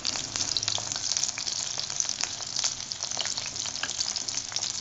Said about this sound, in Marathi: आपण आता हे पूर्णपणे फ्राय करून घेत आहोत